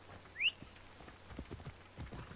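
Horse hooves clip-clopping in Assassin's Creed Odyssey, a steady run of soft, moderately close hoof beats following a brief high whistle-like cry near the start.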